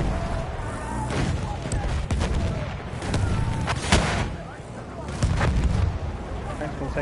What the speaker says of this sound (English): dynamite going off